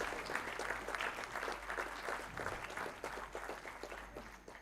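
Steady round of applause from an audience at a memorial lecture event in Jaipur, dense continuous clapping at moderate distance with a low hum underneath, sustained throughout.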